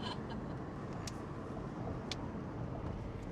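A steady, low rumble of road noise fills the interior of a moving car on city streets, broad and constant, with a couple of faint high clicks over it.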